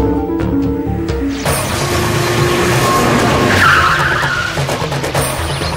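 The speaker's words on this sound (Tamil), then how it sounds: "மாமா, கார் சவுண்ட் கேக்குது" A car pulls up amid tire skidding and engine noise, loud and continuous throughout, with a brief rising whine in the middle.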